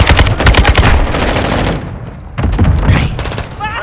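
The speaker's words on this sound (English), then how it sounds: "They're shooting at me!" Rapid automatic gunfire in a Modern Warfare 2 third-person mosh pit match: loud bursts of close shots rattle for nearly two seconds, pause briefly, then resume with scattered shots and small game effects.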